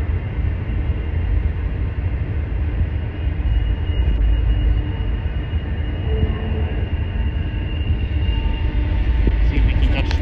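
A Norfolk Southern manifest freight train with tank cars rolls past at Horseshoe Curve, a steady loud low rumble and wheel noise that persists throughout with faint squeal near the end.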